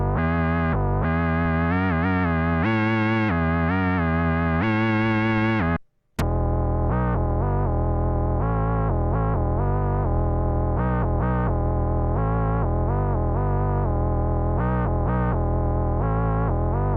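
The Sync Bender Mod 4 effect preset plays on a synth, giving a loud, heavily distorted, buzzy tone with wobbling pitch sweeps. A phrase breaks off in a brief dropout, then a steadier pulsing pattern continues without talk.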